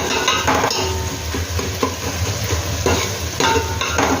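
Tomato and onion cook in a hot pan for pav bhaji, with a steady sizzle broken by repeated scraping stirs of a utensil against the metal.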